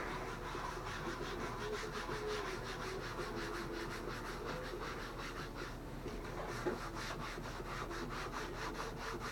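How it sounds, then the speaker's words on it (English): A scour pad soaked in acetone rubs spray paint off a plastic car bumper in circular strokes, giving a steady rhythmic scrubbing rasp, close and fairly quiet, with no talk. "you have to keep renewing that scour pad with acetone. Circular motions work good"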